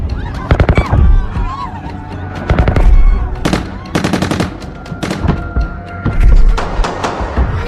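Gunfire in a bank robbery movie scene: loud clustered bursts of rapid shots in several volleys, with scattered shouting and voices between them.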